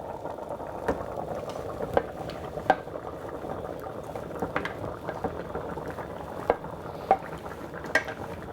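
White sauce being stirred into potato soup with a flat-bottomed spoon, the pot bubbling steadily while the spoon gives occasional soft clinks and scrapes against its sides.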